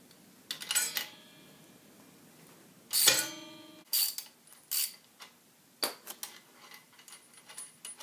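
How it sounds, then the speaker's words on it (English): A 17 mm socket wrench loosens a bolt on a dirt bike, giving scattered metallic clicks, a brief ratcheting burst and clinks of the tool. The sounds are close, irregular and separated by quiet pauses. "take your socket wrench, and I'm using the 17 millimeter, and so yeah, just start loosening it and undo it"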